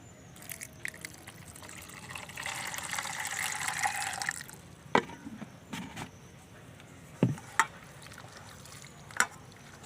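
Food is rinsed in a bowl of water: a splashy pour or rush of water for a couple of seconds, then scattered drips, sloshes and small knocks, close and quiet, with no talk.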